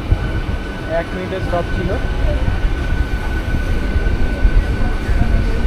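Digha–Howrah local train pulling out of Kolaghat station: steady close rumble of the carriage with wheel clatter and faint squeals, someone talking over it.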